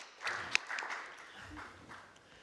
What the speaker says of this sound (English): Join me in applauding Ruth Beckerman